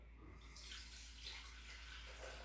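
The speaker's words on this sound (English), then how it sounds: "I'm going to pour a little water in it" Water is poured into a glass cylinder vase, a soft continuous splashing trickle that runs throughout, faint and close, with no voices.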